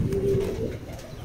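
A young Rampuri pigeon at a loft gives a single soft, low coo close by, heard on its own over faint background murmur.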